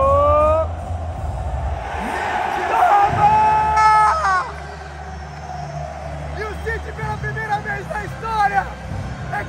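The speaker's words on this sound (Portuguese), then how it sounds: "A torcida." Football fans cheer and scream loudly as City win the Champions League, with overlapping shouting voices swelling and surging throughout.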